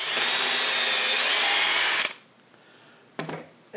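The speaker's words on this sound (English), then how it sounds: "So what I'm going to do is drill the first one." A power drill drills into cherry wood, whining steadily for about two seconds, loud and close, then stops; a brief second burst follows after a pause.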